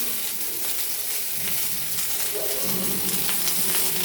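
Okra sizzles in a pan and is stirred with salt and turmeric, a continuous close frying hiss with scraping turns and no talk.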